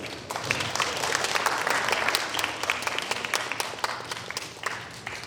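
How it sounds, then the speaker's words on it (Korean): An audience applauds to welcome a student team presenting its project, a lively, sustained round of clapping with sharp individual claps standing out from the crowd. "그럼 큰 박수로 맞이해 주세요"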